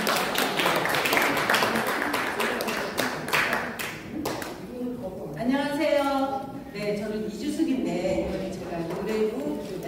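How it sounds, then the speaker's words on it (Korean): Audience applause at a Korean knowledge forum, a burst of dense clapping from a crowd lasting about four seconds before it fades into someone speaking. "다시 한번 큰 박수 부탁드리겠습니다"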